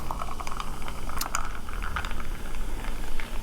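Pepsi poured into a Buffalo Bills glass, with a steady close fizzing and crackling of carbonation and a few small clinks throughout.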